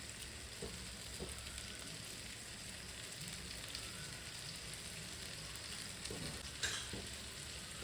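Fish sizzles steadily in hot oil in a pan as fried onion is added, a continuous crackling hiss with occasional soft stirring knocks and scrapes, close and fairly quiet with no talking.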